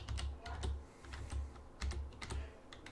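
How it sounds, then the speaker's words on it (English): Keystrokes on a computer keyboard, a close, quiet run of irregular clicks and taps with short pauses between bursts, no voices. "I can type"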